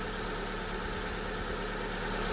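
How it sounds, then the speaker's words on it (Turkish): A car engine idles steadily after an oil filter change with full synthetic oil, a low continuous hum with faint vibration, even and unbroken from start to finish. "Şu anda motorun sesi eskiye nazaran biraz daha sessiz."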